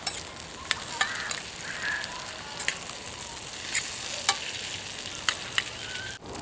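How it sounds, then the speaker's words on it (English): Potatoes seasoned with salt and pepper fry in a pan over embers, a steady soft sizzle with scattered crackles and pops. The sound stays even and moderately quiet throughout, with a sharper clink near the end. "Now we're just going to let it fry."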